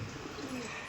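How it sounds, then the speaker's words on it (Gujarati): Pigeons feeding at a Ratneshwar Mahadev temple give a brief, soft, low cooing over faint outdoor background noise. "અલે પૂરા કબૂતર ચણે છે જો."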